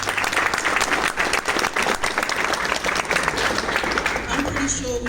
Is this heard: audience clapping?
yes